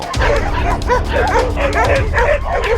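A group of nine dogs, small breeds, yipping and barking continuously in a lively, overlapping burst, loud and close, with excited whimpering mixed in.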